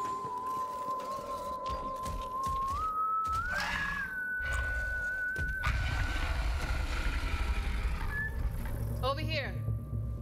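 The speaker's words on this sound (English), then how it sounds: "Someone was whistling." Whistling in the Borderlands 3 video game: a single sustained whistled tune that steps up in pitch partway through and holds, heard over game ambience and effects.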